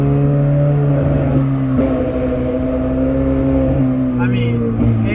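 A straight-piped Ferrari 430 Scuderia engine holds a loud, raw, steady droning note that shifts slightly in pitch. It sounds close and continuous, with a brief rise in revs near the end.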